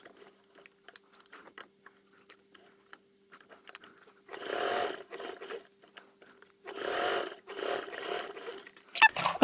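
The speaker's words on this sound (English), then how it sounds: "I'm going to sew a 1/4 inch around the whole perimeter" A sewing machine stitches a quarter-inch seam along the folded edges of a convertible duffle bag, running in two separate steady bursts with a short quiet gap between them.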